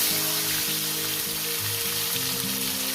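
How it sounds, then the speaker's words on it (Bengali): Chopped tomato dropped into hot oil tempered with black cumin seeds for a rohu fish curry, giving a steady, loud, close sizzle throughout with a low tonal hum running beneath. "কালো জিরে ফোড়ন দেওয়ার পর আমি দিয়ে দেবো এখানে টমেটো"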